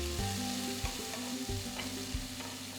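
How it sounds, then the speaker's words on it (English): Finely chopped onion frying in a pan with mustard seeds and asafoetida gives a close, even sizzle, with a few quick stirring scrapes breaking through it. "Now add 1 large onion finely chopped. Just saute that for a minute."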